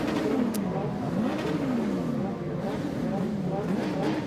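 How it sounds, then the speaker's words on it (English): Junior rallycross cars revving hard before the start at the Kouvola round in Finland, engines rising and falling in repeated throttle blips, loud and close, with a commentator talking over them. "juniors, they love a bit of engine revving because obviously it helps."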